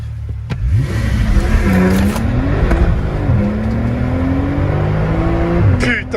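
A Porsche 911 Turbo accelerates hard from inside the cabin, its engine note climbing steadily through gears with loud rising tones and a brief shift dip, while people talk over it.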